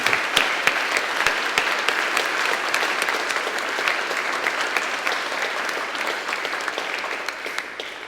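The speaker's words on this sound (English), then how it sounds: "A round of applause for all what's been said." An audience at a forum in Perth claps steadily for several seconds after the speakers, a dense wash of applause that fades slightly toward the end.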